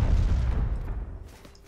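Explosions going off inside a base in the video game Planetside 2, a loud low rumbling blast that decays and fades over under two seconds.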